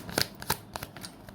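Tarot cards shuffled and drawn by hand: a few soft, quick riffling and snapping flicks in an irregular rhythm, close and faint.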